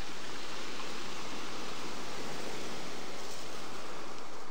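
Ocean waves at Montauk Lighthouse, a steady broadband wash of surf without distinct breaks, loud and constant with some wind noise and no voices.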